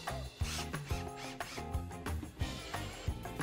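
Wood screws, 1 1/4 inch, being driven into a desk build, with a repeated ratcheting, clicking whir and sharp thunks of each screw biting in, fairly quiet and close.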